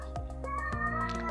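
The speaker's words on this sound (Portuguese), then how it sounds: "Tem um gato aqui, gente do céu, tá demais, ele tá chamando alguém." A cat meows insistently, as if calling for someone, two or three close, clear meows over a steady background hum, with no talking.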